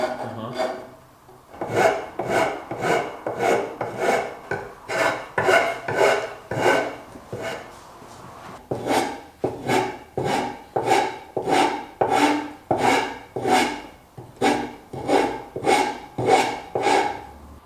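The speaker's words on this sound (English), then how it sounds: "you want like a needle rasp like this. Get in there, get all those little floofs out" A needle rasp files over carved wood after power carving, giving a steady series of close, loud rasping strokes with a short pause partway through.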